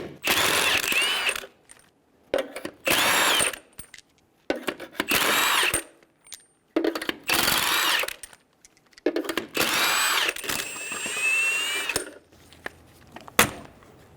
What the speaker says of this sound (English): Using a 21mm socket, remove the 6 lug nuts.